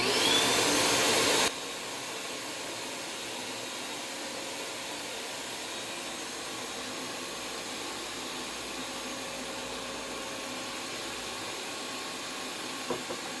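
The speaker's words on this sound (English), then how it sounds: "So as soon as I plug this in, the vacuum should kick on." A vacuum cleaner on its own plugged-in power circuit runs in a workshop. A loud rushing burst at the start settles into a steady, quieter whirring hum that continues alone.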